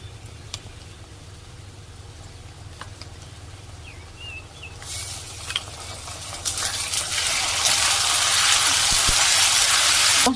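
Ginger, garlic, tomato and green chilli paste going into hot oil with already-fried onions, a sizzle and hiss that swells louder and brighter partway through and stays strong, with faint spatters, while cooking chicken with banana flower.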